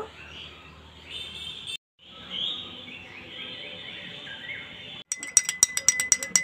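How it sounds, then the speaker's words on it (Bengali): A spoon stirring homemade Glucon-D powder into a drink in a glass, ending in a rapid run of bright, close clinks against the glass after quieter background with faint bird chirps. "তো এবার একটু গুলে দেখাই।"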